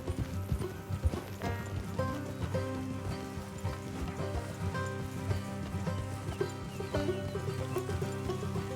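Horses clip-clopping along in Red Dead Redemption 2, steady hoofbeats under a dense layer of game music and ambience, with occasional whinnies and light rain sounds mixed in.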